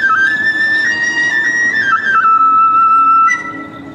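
A high bamboo flute plays a short Aomori Nebuta festival melody on a stage, sustained notes sliding between pitches, clear and alone.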